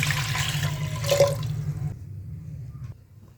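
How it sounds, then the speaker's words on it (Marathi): Water poured into a pressure cooker while making chole, a steady splashing gush that runs for about two seconds and then stops, leaving near silence. "आता आपण कुकरमध्ये पाणी टाकू"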